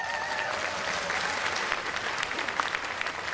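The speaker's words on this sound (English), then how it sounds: "We can give them some round of applause" Steady, dense applause from an audience at a morning keynote event, honoring the event co-chairs, sustained evenly throughout without talking.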